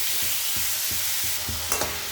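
Onion sautés with salt in a pan for a potato stuffing, steady sizzling broken by regular stirring scrapes about every third of a second, close and clear with no talking.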